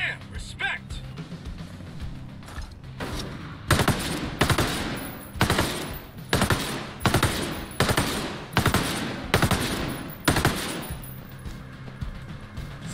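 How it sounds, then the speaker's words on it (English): Sustained suppressing gunfire in the video game Ghost Recon Breakpoint, a series of about ten loud automatic bursts in quick succession, each a sharp rattling volley, with game voices talking underneath. "Keep up the suppressing fire."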